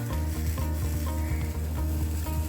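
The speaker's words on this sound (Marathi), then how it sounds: "मिनिटभर आपण परतवतोय हे" Moth beans sauté in a hot pan with salt, turmeric, asafoetida and cumin, giving a dense continuous sizzle with rhythmic stirring scrapes throughout.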